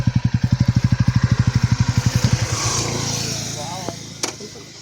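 A motorcycle engine thumps in a fast, even pulse close by, then drops through the gears to a low, steady idle, with a couple of faint clicks near the end, on the road to Trimbakeshwar.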